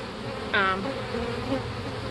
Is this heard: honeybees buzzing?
yes